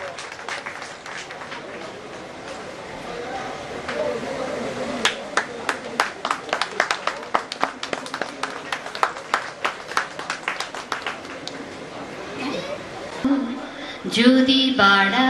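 Scattered hand claps from an audience at a first annual programme event in 2014 rise over a steady crowd murmur, thinning out near the end as a voice and music come in.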